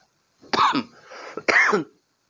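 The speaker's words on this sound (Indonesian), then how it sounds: "Selalu diikuti oleh batuk ya." Two harsh throat-clearing coughs, close and fairly loud, about a second apart, with a brief rough rasp between them.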